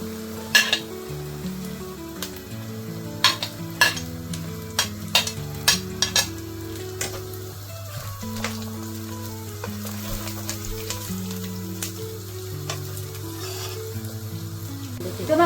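Cabbage tossed into a spiced masala with flour fries and is stirred in a pan, giving a steady sizzle broken by sharp clinks of a spoon against metal throughout, with no talking.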